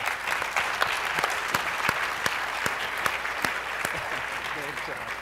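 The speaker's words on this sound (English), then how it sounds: "give our panel a round of applause, please" An audience at an education summit gives a panel a round of applause: dense, steady clapping from many hands filling the room, continuous and fairly close, with scattered sharper individual claps standing out.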